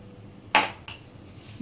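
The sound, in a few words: mixing mango pieces with spices and salt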